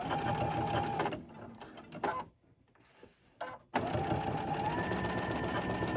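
A sewing machine stitches pieces of a table runner with a loud, steady mechanical whir. It stops briefly midway, leaving near-quiet with a few handling clicks, then starts up again and runs evenly to the end.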